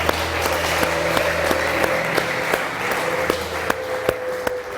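At a live Sunday church service, a congregation claps in a steady, rhythmic beat of sharp, evenly spaced claps over a continuous crowd hum, with no clear voices on top.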